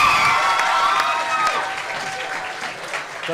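Audience applause at a youth poetry slam regional heat, loud clapping mixed with some cheering that starts strong and gradually fades, with a faint tonal hum beneath.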